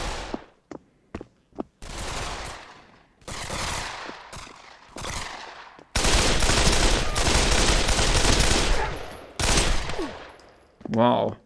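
Video-game gunfire and explosions felt through a SubPac M2X wearable bass unit, a string of sharp single shots giving way to long, loud sustained bursts of rapid fire and booming blasts.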